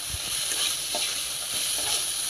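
Steady sizzling of spices and bay leaf in hot oil for a tadka, a continuous crackling hiss with occasional soft stirring sounds, close by and without voices.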